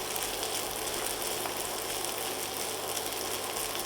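A mashed potato galette fries in a pan, giving a steady, close sizzle of hot fat that holds evenly throughout with no voices.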